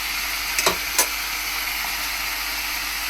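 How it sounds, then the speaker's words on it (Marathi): Mixed vegetable bhaji fries in hot oil in a home kitchen. A steady, even sizzle runs throughout, with two brief clinks of stirring near the start. "तेलावरती 2-3 मिनटं परतून घ्यायचे"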